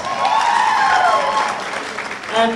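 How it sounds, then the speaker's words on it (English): Audience applause for Connor at the Down Rose of Tralee event, a steady wash of clapping that holds for a couple of seconds and swells again at the end, with a tonal voice or music line running underneath. "Give Connor a round of applause."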